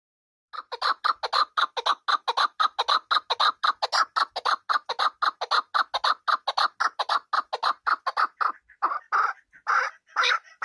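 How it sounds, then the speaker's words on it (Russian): A loud, rapid series of clucking chuk notes from a chukar partridge, repeated steadily and accelerating, ending in a few broader raspy calls, with no other sound. "Довольно громкое, постепенно убыстряющееся квахтание кок-кок-кок-кок-кок."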